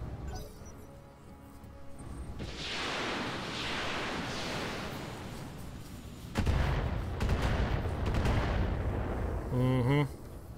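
Flamer and laser weapons firing in the video game Roguepoint, a sustained roaring rush of bursts and crackling blasts that grows louder midway, with a brief electronic chirp near the end.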